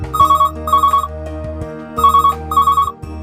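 A telephone rings loudly for an incoming call on a call-in show, with two pairs of electronic trilling bursts separated by a short pause.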